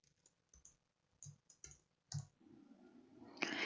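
Several sharp computer mouse clicks in a quiet room while recording a macro in a spreadsheet, spaced irregularly across the first two seconds, then a soft low hum and a brief louder rustle at the end.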